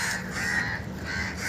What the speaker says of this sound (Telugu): చూసారా ఎన్ని కాకులు నా మీద దాడి చేయడానికి సిద్ధపడుతున్నాయండి.